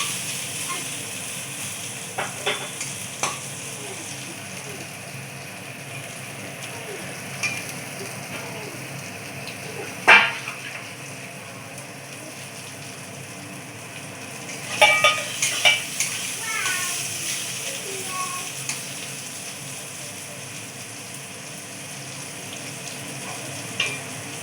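Eggplant fries in a pan with a soft, steady sizzle, broken by occasional sharp clinks and scrapes of a utensil against the pan, while faint voices talk in the background.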